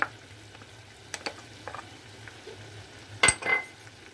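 Chopped tomatoes, ginger and garlic paste sizzle in a pan for chicken tikka karahi, a steady low fry broken by a few sharp clinks of a utensil against the pot, with a louder scrape near the end.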